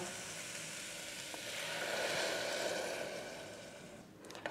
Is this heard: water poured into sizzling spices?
yes